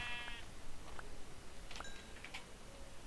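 Blocky sheep in the game Minecraft give a few short, thin bleats at moderate distance over a steady background hum, with no voices.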